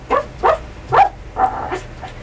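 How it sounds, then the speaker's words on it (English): Four or five short, sharp dog barks in quick succession, fairly close and loud, with brief pauses between them. "Was that him barking? Sounded like it."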